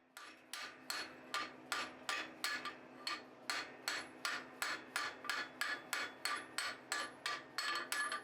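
Blacksmith hammering hot steel pipe while tapering the end of a bar for a candle cup, about seventeen sharp metallic blows in a steady even rhythm, close and loud with no talking.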